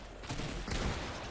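A brief volley of shots from the video game Fortnite, with crackling bursts around the middle, fairly muffled against steady game background.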